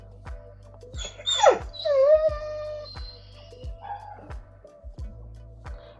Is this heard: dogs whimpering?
yes